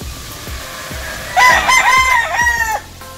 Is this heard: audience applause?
no